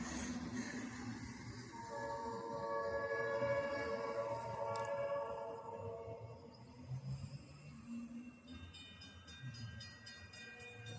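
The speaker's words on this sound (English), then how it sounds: "Can't believe there's two trains at the same time." Two AERC passenger trains pass at once, a steady loud rumble of rolling cars with drawn-out horn tones sounding over it and a brighter, shrill squeal near the end.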